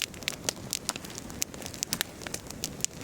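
A campfire crackles beside a river at night, with sharp irregular pops and snaps over a soft steady wash of flowing water.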